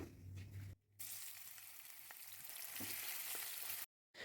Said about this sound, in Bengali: সেই তেলেই আমি আবার পেঁয়াজ দিয়ে দিচ্ছি মাংস রান্নার জন্য